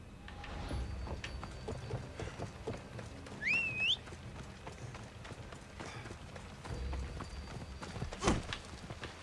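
Hooves clop in a quick galloping rhythm as a horse runs close by in Assassin's Creed Odyssey, moderately loud over ambient game sound, with a brief whistle partway through.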